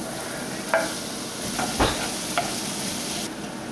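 Chopped onion fries with bacon in a pan, a continuous close sizzle broken by a few soft knocks and scrapes of stirring.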